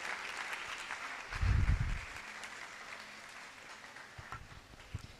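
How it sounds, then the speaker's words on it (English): An audience applauds after a keynote speech at a live-streamed event, a soft, distant, continuous patter of clapping with a brief low thud near the start and scattered sharper claps toward the end. "Keep clapping, keep clapping"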